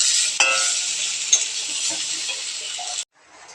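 An egg coated with turmeric and salt fries in hot oil in a pan, giving a loud, steady sizzle with a few small pops that stops abruptly near the end, followed by a faint hiss.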